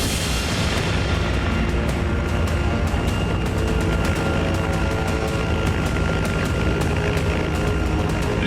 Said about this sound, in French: Des hélicoptères arrivent en force et se posent près du laboratoire de drogue des talibans.